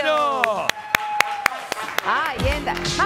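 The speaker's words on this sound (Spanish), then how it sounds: "¡Más fuerte el aplauso!" A studio audience on a Spanish-language afternoon TV show claps in sharp rhythmic unison, about a dozen evenly spaced claps beneath a voice talking over them, ending in a swell of louder voices.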